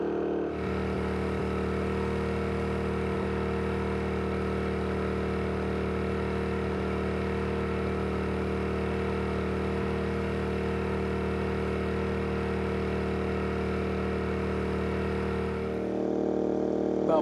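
A dual fuel portable generator, Champion 4000 or Wen 3600, runs under heavy load near 4,600 RPM, its engine droning loud, steady and close for the whole stretch before the pitch shifts slightly at the very end.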